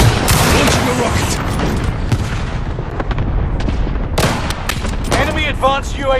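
Cluster strike explosions in Call of Duty Warzone boom in a dense, overlapping series of blasts and crackling impacts, loud and close, with game voice announcements and talk layered over the barrage.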